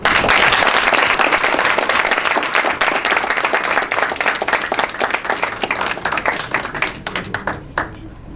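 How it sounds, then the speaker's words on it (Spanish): Loud clapping fills the room as an audience at a university debate on the Iranian nuclear program applauds an ambassador. The clapping starts dense and full, then tapers into sparser individual claps near the end. "Un aplauso también para el embajador Berrugas y para ustedes."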